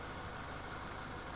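A car engine idles with a steady, low mechanical hum and faint rhythmic ticking, unchanging for its short duration.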